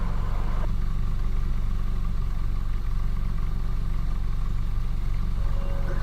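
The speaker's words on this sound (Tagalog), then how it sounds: "Yun, tahimik na yung tambutso natin." A 2017 Suzuki Ertiga idles steadily with its exhaust now quiet, a low continuous engine hum running evenly throughout with no voices.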